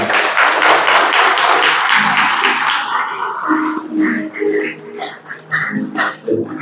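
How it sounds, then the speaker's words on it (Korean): Wedding guests applauding after the bride and groom bow to each other, a dense burst of clapping that fades after a few seconds as a voice speaks over it. "여러분 뜨거운 박수 부탁드립니다"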